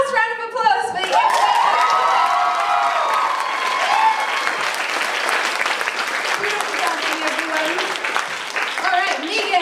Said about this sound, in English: one last round of applause for you.